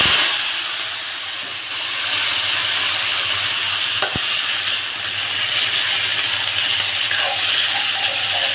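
Vegetables frying in oil with cardamom, cinnamon and cloves, a dense steady sizzle with faint stirring clicks and one sharp knock partway through.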